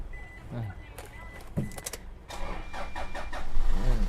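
A 2.5-litre diesel engine in a 2013 Toyota Fortuner cranks and catches, settling into a rising rumble, with clicks and brief faint talk nearby.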